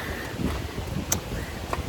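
Outdoor wind in Sorrento buffets the microphone with a continuous low rumbling roar and small gusty swells, loud and close, with no talking.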